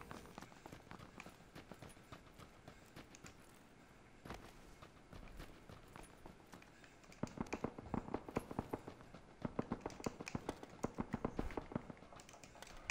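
Distant gunfire crackles in the PUBG video game on Xbox One, a faint rapid scatter of pops like popcorn popping that grows denser and louder toward the end.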